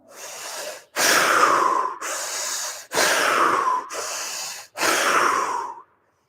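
Three big breaths drawn in and pushed out through the mouth during a fascial stretching session, each inhale and exhale loud, close and airy, separated by short silent gaps.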